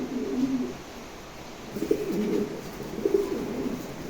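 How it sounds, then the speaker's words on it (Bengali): A pair of pigeons coo softly nearby, low throaty bursts repeating every second or so against a quiet background. "চমৎকার এক জোড়া কবুতর নতুন নিউডাল একদম"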